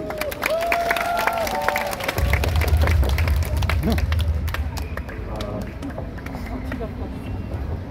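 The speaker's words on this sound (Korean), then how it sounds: "박수로 맞아주십시오." A crowd at an outdoor protest rally claps and cheers, a dense steady patter close by that continues for several seconds, with voices and a low rumble underneath.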